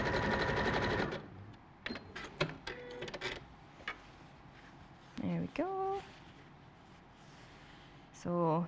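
A sewing machine runs a wide zigzag stitch in a short close burst at the start, followed by someone talking with brief clicks and small handling noises between her words.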